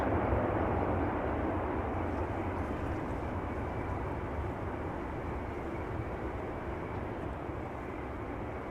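Airliner landing on a runway at Amsterdam Schiphol, the touchdown a steady, broad roar of engine and rolling noise that holds at a constant level throughout, heard from a distance with no voices.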